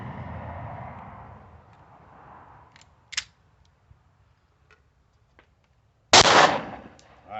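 A Taurus G3C pistol fires a single loud, sharp shot after a stretch of quiet clicks and handling noise, with steady low wind or ambient rumble before it.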